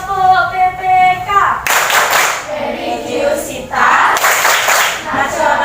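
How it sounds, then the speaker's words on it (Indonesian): A group of children performs the PPK clapping chant in a classroom, rhythmic hand claps over loud, shouted chanting voices, with a brief musical tone at the start. "mari kita tepuk PPK"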